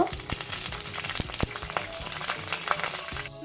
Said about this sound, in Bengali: আমি চুলাটিতে প্যান বসিয়ে দিয়ে আমি তেল ঢেলে দিচ্ছি সোয়াবিন তেল দুই টেবিল চামচের মতো তেলটা গরম হচ্ছে